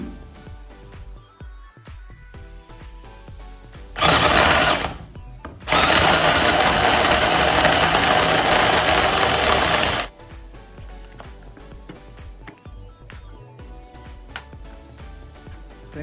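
An AGARO small mixer whirs loudly while chopping green chillies, a short burst followed by a pause and then a longer continuous grinding run of several seconds, with quieter kitchen sounds before and after.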